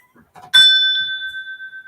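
A single bright bell strike rings out after a few faint murmurs, its clear tone sustaining and slowly pulsing as it fades.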